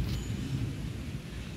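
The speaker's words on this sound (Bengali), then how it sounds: "দেখো ঝড় বৃষ্টি আবারও বিকাল হতে না হতেই শুরু হয়ে গেছে।" Rain pours during a late-afternoon thunderstorm, giving a dense, steady low rumble and wash of noise throughout a brief stretch with no voices.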